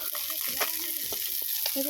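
Bata fish frying in a pan at home gives a steady close sizzle with a few brief scraping and stirring knocks over the crackle.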